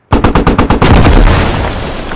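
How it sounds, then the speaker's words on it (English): Mortar shells land in the Squad war game on the Gorodok map: a loud, close burst of rapid sharp blasts merges into one heavy rumbling boom that slowly fades. "Mortar's coming in."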